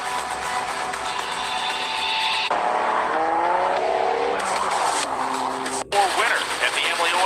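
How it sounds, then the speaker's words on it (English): Two NHRA funny cars thunder down the drag strip at Gainesville, engines roaring and climbing in pitch with tire squeal, then cutting off abruptly, while commentators talk over the racket. "we're going to watch these two funny cars go at it"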